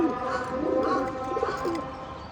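Pet pigeons coo softly in a few rolling, throaty phrases close by, with faint chirps mixed in over a brief stretch.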